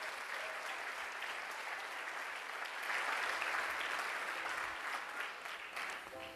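A church congregation applauds together, a dense, even wash of clapping that swells slightly midway and holds steady, heard from within the room with faint voices underneath.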